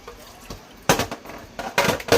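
Rinsed food for a chicken casserole drains in a kitchen sink, with a few sharp splashy bursts and clinks of dripping water separated by quieter gaps, close by.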